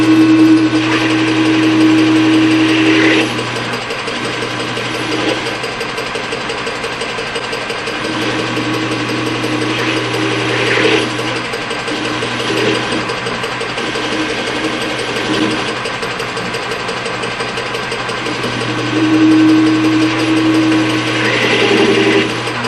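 A lathe turns down a beat-up shock absorber to just under one inch, giving a steady, close mechanical whirring hum with a faint tonal whine that holds throughout, with no talking.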